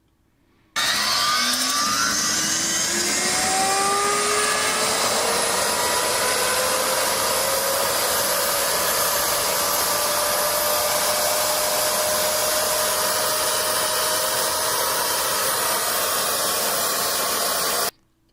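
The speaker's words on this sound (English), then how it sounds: "it doesn't even appear to be connected to this turbine that he's starting." A turbine engine starting and winding up to full speed, a loud whine rising steadily in pitch over a dense roar that cuts in abruptly and holds for about seventeen seconds before stopping, with no talking.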